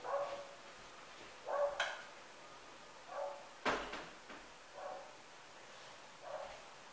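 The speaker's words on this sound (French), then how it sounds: "le petit chien de mes voisins aboie" A small dog barks several times at a distance, short sharp yaps spaced a second or so apart, faint against a quiet room.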